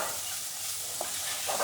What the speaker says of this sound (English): if you see it sizzling too hot and you see it's burning, just take it off the heat